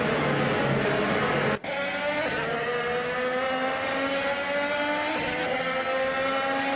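Chevrolet IndyCar engine in a racing game, a loud high-pitched whine holding steady with a brief sharp cutout, then climbing in pitch through shifts.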